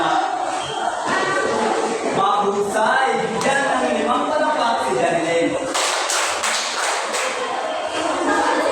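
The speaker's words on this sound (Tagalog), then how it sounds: "Bigyan ng limang palakpak si Janelle." A class gives a round of clapping in a teaching demonstration: several sharp, loud claps in quick succession near the end, following talk and crowd noise.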